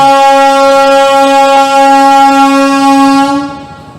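A train horn at Azimganj junction station blares one long, loud, steady harmonic blast that runs nearly four seconds before fading out as the train departs.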